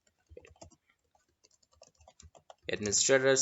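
Computer keyboard typing while setting up a local user account on Windows 11, scattered soft key clicks close by, followed by a loud burst of voice at the end.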